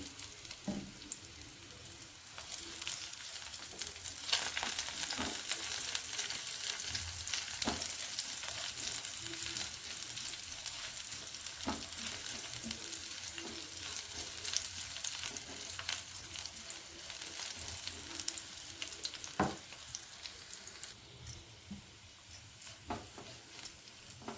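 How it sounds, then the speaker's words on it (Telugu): One medium-sized bulb's worth of garlic frying in a pan for gongura pickle, a continuous soft sizzle with occasional crackles and stirring clinks throughout. "ఇలా కొంచెం కలర్ మారే వరకు వేగించుకోవాలి."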